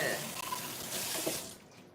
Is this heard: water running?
yes